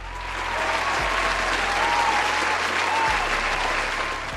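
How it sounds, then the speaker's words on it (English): A crowd breaks into steady, full applause that swells and holds, a dense roar of clapping with a low background hum underneath. "Give him a round of applause"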